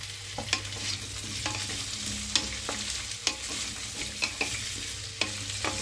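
Beans tossed into a pan of frying cauliflower and potato for vegetable biryani, with a steady sizzle and a series of sharp stirring scrapes and clinks at an irregular rhythm, close up and with no talking.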